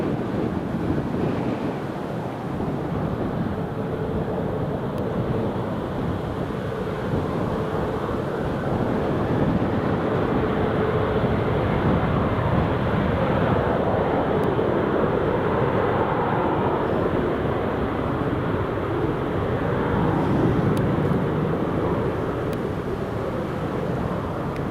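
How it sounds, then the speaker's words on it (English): A KLM airliner's jet engines roar steadily as it passes along the runway at Newcastle International Airport, a broad sustained rumble mixed with wind buffeting the microphone throughout. "Here goes the KLM."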